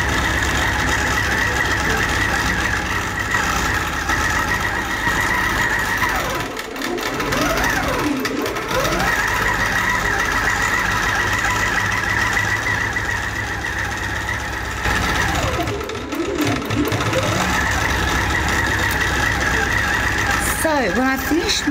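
A home sewing machine runs steadily, stitching a quilted Wedding Ring bed runner. The close, continuous motor hum carries on for about twenty seconds with two short pauses, and no talking is heard.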